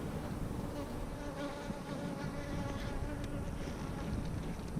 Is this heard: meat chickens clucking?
no